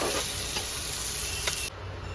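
Spices with kasuri methi frying lightly in a pan for a jackfruit dopiaza, a steady close sizzle with a few stirring scrapes, cutting off sharply near the end.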